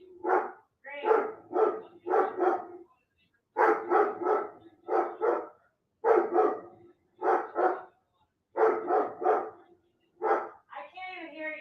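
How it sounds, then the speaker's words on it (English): A dog barks repeatedly in quick clusters of two or three, fairly close and loud, with short gaps between bursts and a whine at the end. "The dog's barking."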